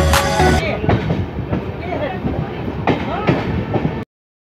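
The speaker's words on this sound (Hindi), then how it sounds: "ट्रेन तो खुल गई, अब चल रहे हैं पटना" A passenger train moves on the rails from Mokama toward Patna, heard from inside with steady rumble, clattering wheels and a faint voice, ending abruptly.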